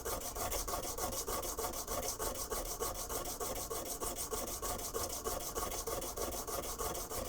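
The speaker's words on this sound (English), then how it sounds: "I am sanding in the direction of where the fabric goes" Steady, continuous rasping abrasion of a metal sewing machine part being sanded, running without pause at close range; no voices.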